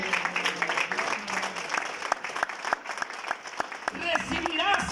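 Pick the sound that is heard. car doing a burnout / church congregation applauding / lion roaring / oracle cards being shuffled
church congregation applauding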